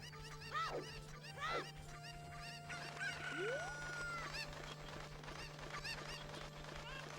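Cucco chickens in Zelda: Ocarina of Time cluck and squawk in a few loud bursts, with a rising honk-like call, over a steady hum and game sounds.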